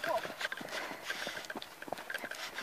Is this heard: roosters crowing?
no